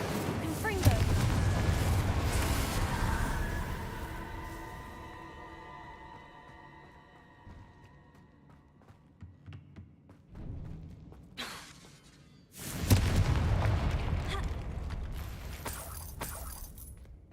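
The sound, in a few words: Incendio and Confringo spell explosions in the video game Hogwarts Legacy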